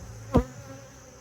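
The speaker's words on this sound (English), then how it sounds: "all these new bees emerging out, fuzzy young bees like that, that's what you want to see." A single brief, close buzz from a honey bee darts past at the opened hive of a young nucleus colony, over a quiet background hum.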